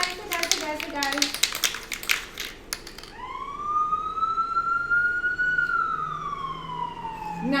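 A loud siren wail rising and then holding a steady tone, preceded by a few sharp clattering knocks and muffled activity.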